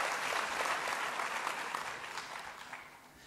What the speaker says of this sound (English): I'm sure we can give them another round of applause for their performances.